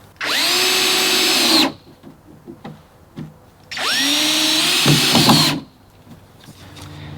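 A power drill drives screws through pre-drilled pilot holes into a natural cedar raised garden bed: two loud whirring bursts of about one and a half seconds each, separated by a short pause with faint handling clicks.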